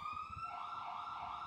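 Police siren in a city, a loud wailing tone sweeping downward then holding, heard alone for under two seconds.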